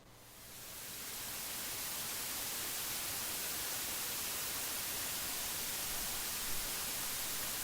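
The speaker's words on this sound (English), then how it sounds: "So any notes, all notes, they're all the same because it's totally just white noise." Synthesizer playing white noise, a steady broadband hiss that fades in over the first second and then holds at an even level with no pitch or rhythm.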